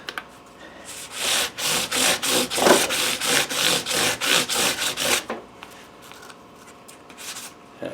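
Fine 800 grit sandpaper rubs back and forth across the metal frets of a Stratocaster-style guitar, about a dozen quick, even strokes up close, then stopping.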